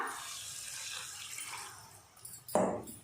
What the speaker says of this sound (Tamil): இப்போ குழம்புக்கு தேவையான அளவுக்கு தண்ணி சேர்த்துக்கலாம்.